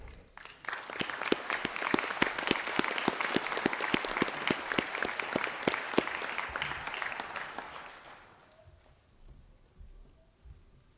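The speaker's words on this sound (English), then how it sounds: "stand for a round of applause" A hall of guests at a university conferring ceremony applauds graduates with brisk, rhythmic clapping that carries for about eight seconds, then fades out into quiet room tone.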